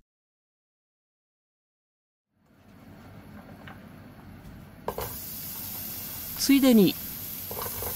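Sliced potatoes, cut 1 to 2 mm thin, fry in a pan still greasy from cooking meat, a soft steady sizzle starting after a silent opening, with someone speaking briefly over it.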